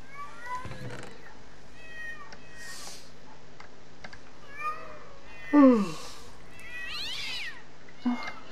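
Cats meowing in Minecraft with the Mo'Creatures mod, several scattered meows of different lengths over a low steady game hum, one louder and closer than the others.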